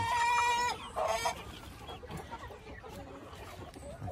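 Hens and young chickens in a yard cluck close by, with a burst of calls at the start followed by softer scattered clucks and rustling.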